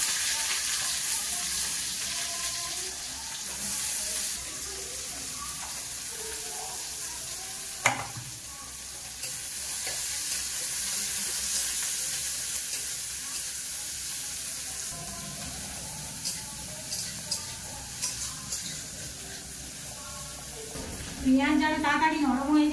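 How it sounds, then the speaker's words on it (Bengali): Four small chopped onions frying in oil in a kadai, heard as a low, steady sizzle with faint stirring knocks and a sharper burst of sizzling near the end, while a voice talks quietly at times. "এই তেলে আমাদের এখানে 4টে ছোট সাইজের পেঁয়াজ ধুয়ে কেটে নিয়েছি, তেলের মধ্যে দেব।"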